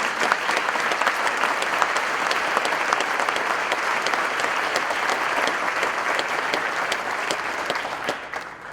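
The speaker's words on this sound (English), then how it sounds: "Give them a round of applause." A large audience at a county State of the County address applauds continuously, dense clapping holding steady throughout before easing slightly at the end.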